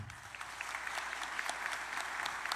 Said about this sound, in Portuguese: com uma forte e calorosa salva de palmas